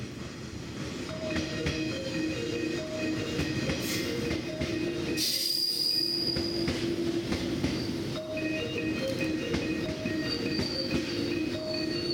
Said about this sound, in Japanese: 30番乗り場に列車が参りますご注意ください